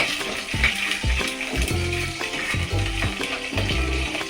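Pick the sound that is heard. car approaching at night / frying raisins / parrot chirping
frying raisins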